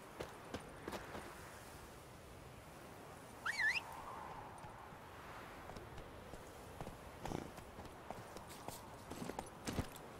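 Horse hooves trotting in the Witcher 3: Wild Hunt video game, a steady clip-clop rhythm of moderate loudness running through the whole stretch alongside faint ambient game sounds and a brief bird-like chirp.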